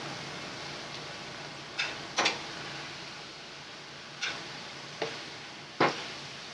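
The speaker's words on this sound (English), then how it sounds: "just give it a stir around until you get that all cooked up" Sausage and other country breakfast ingredients stirred in a pan as they cook: low steady sizzle broken by five or six brief scraping strokes of a utensil against the pan, spaced irregularly, fairly faint, no speech.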